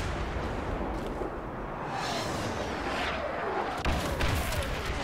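Heavy explosions and artillery fire roar through a Star Wars Battlefront game battle in a dense, continuous wash of booms and blasts, with a sharper burst near the end.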